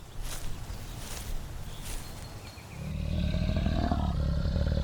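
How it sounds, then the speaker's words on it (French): Two Mapogo male lions patrol their territory on the African savanna at night; a quiet rustling stretch gives way to a deep, sustained, loud lion roar that swells and holds to the end. "les deux lions Mapogo s'étaient séparés de leur groupe pour patrouiller leur territoire."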